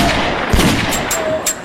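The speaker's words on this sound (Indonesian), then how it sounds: "Dan meski Nick harus menerima tembakan, akhirnya dia pun mampu membunuh Billy tepat di sampingnya." Gunfire rings out in a gangster revenge scene from the film Death Sentence: a heavy, thudding shot lands amid a busy, noisy soundtrack, followed by a few sharper, fainter cracks.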